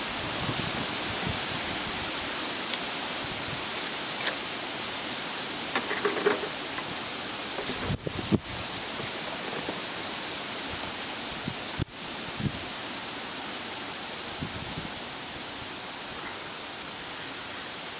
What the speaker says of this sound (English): Try not to talk during a big gust.